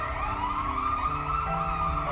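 Ambulance siren in the video game Turovero: The Celestial Tower, a sustained wailing tone under low rumbling engine noise, steady and fairly loud throughout with no talking.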